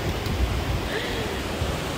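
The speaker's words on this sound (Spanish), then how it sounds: "Estamos frente al mar" Ocean waves at the seashore, a steady broad wash of surf rushing continuously at moderate level with no distinct breaks.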